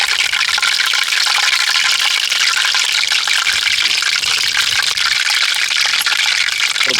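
Gram-flour-battered green chillies for mirchi bajji deep-frying in hot oil, a loud, dense, continuous bubbling sizzle that fills the whole stretch without pause.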